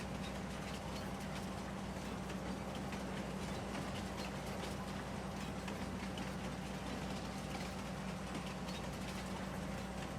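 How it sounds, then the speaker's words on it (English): Train rolling through a town in the Farming Simulator 19 video game, a steady, continuous rumble and rail noise with no voices over it. "this train takes us kind of across town"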